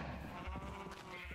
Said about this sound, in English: Oh, you see a sheep got out.